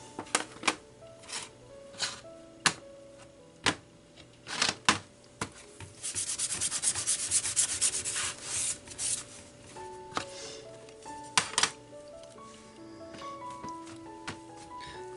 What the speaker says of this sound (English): I'm just embossing or putting the embossing ink on my stamp.